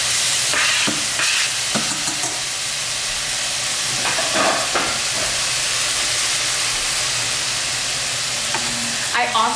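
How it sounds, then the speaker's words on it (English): Crushed fire-roasted tomatoes hit a hot pan for marinara sauce, setting off a loud, dense, continuous sizzle and hiss with a few stirring scrapes, close up and without pause. "So about at this point, I would like to add my tomatoes."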